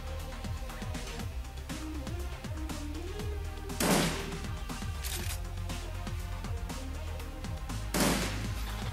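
Gunfire in the video game Shadowrun Returns: two sharp broadband bursts, about four seconds apart, cut through a steady bed of game music and effects.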